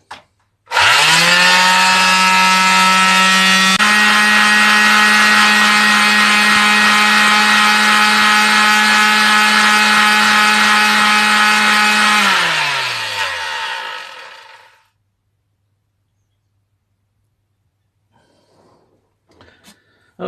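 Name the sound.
power sander sanding a wooden router project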